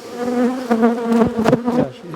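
Honeybees hum loudly and close while being smoked down into a hive box during a colony split, a dense steady buzz with wavering pitch and no talk.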